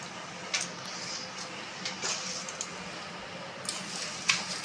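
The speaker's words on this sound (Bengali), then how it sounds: "চলো এটা ভালোভাবে হাত দিয়ে ভালোভাবে মেখে নিই" Soft, wet squishing as a fish kofta mixture is kneaded and pressed by hand, with a few faint, quiet squelches spaced unevenly over low room hiss.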